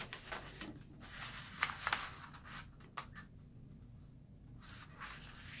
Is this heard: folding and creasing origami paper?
yes